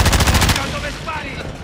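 Rapid automatic gunfire in the video game Warzone II, a loud burst of close shots in quick rhythm that cuts off after half a second, followed by game ambience.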